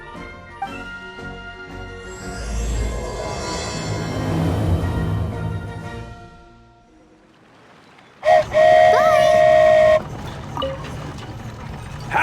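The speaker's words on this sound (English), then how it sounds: "Wow, a train ride over the sea?" A train whistle blows loudly and steadily for a couple of seconds after a stretch of rumbling rail movement with game music, as a train crosses over the sea in Genshin Impact.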